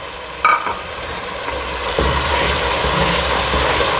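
Peas added to a pan of masala with tomatoes and chillies, giving a steady close sizzle and frying hiss with a brief clatter as they drop in, growing slightly louder partway through.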